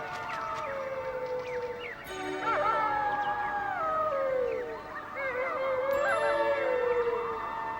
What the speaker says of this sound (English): The mating season is announced by much howling, which helps animals locate each other and define territories.